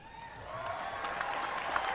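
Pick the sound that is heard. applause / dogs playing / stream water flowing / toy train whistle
applause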